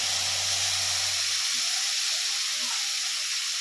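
Boiled cabbage and beans hitting a hot pan for veg fried rice, a loud steady hiss and sizzle of frying throughout, with a brief voice at the start.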